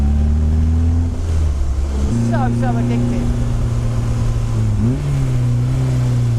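A Honda S2000 AP1 with its 225 bhp F20C engine revs hard from inside the cabin, its loud exhaust note rising and shifting pitch between gears, while someone speaks briefly over it.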